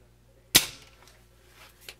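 Crosman F4 air rifle shot through a chronograph, one loud sharp crack followed by a fading tail and a faint later tick.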